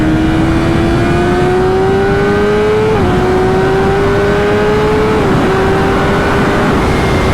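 A BMW S1000RR inline-four superbike revs up hard, its high-pitched engine note climbing steadily through two gear shifts with brief dips at each change, loud and close with no talking.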